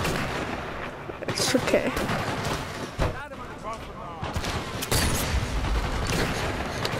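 Gunfire and explosions in the Sniper Elite VR war video game, a busy, continuous battle din with repeated shots and blasts under a player's frequent speech, loud and close throughout.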